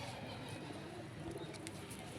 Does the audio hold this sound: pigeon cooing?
yes